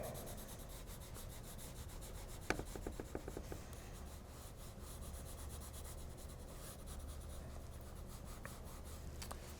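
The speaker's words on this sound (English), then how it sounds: "So always use the side of your pencil when you shade." The side of a pencil shades across paper in a continuous soft scratchy rubbing, close and steady, broken by a brief sequence of small taps partway through.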